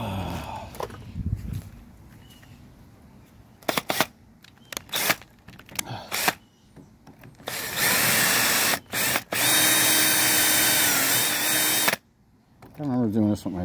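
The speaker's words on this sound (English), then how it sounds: "I want to drill these rivets out" A power drill whines steadily for several seconds, drilling out rivets on a Mustang convertible, cutting in and out in bursts, preceded by scattered clicks and knocks of handling.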